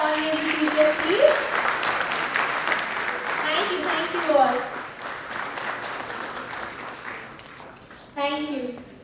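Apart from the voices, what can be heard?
audience applause for the chief guest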